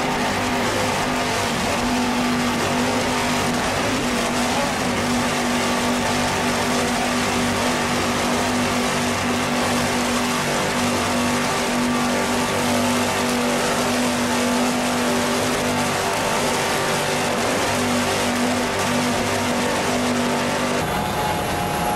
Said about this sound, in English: Let's listen to those Carolina racing engines, too. 600 horsepower Carolinas.